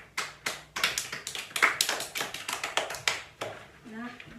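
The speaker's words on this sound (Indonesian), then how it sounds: "Di aplaus dong untuk kelompok pertama dong." Classroom applause breaks out in a microteaching session, a ragged run of separate hand claps, fairly close and moderately loud, with a brief voice at the end.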